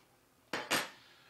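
Cutlery clinks twice against a dish while a cucumber, onion and tomato salad is eaten, two short bright scrapes close together in an otherwise quiet setting.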